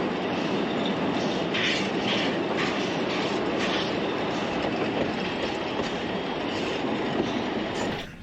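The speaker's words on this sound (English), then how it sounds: "As the train makes its way along the tracks and it snakes and turns to go around corners" A train rolls along the railway through the Pichi Richi Pass in the Flinders Ranges, South Australia, with a loud continuous rumble, rhythmic wheel clatter and metallic rattling inside the carriage, dropping off slightly at the very end.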